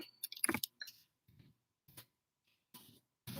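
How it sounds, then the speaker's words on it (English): Typing a reply on a device: sparse, soft taps and clicks spaced irregularly, close and quiet with near-silent gaps between them, plus a denser rattle of clicks near the start. "I'm typing a reply to you right now."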